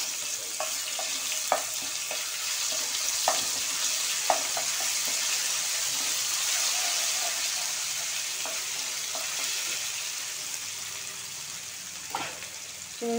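Prawns fry in a little oil with ginger garlic paste for a Telugu prawn curry, a steady bright sizzle with occasional clicks and stirring taps close up, no talking.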